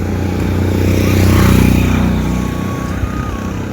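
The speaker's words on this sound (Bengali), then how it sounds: "বাইক আসছে।" A motorcycle comes close on a road and passes, its engine a loud, swelling drone that peaks midway, then fades, with no talk.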